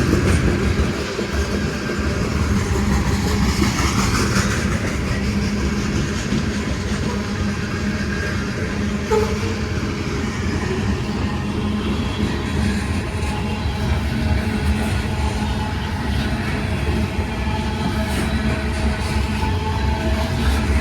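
A CSX/UP freight train rolls past in Madison, a continuous rumbling roar of railcars with rhythmic wheel clatter and occasional squeals, steady and fairly close throughout.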